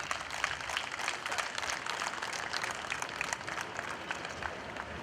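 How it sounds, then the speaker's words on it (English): Steady, even applause from a large crowd at a global meet party, dense clapping continuing unbroken throughout at moderate loudness. "I think an even bigger round of applause for Mrs. Reshma Naik, please."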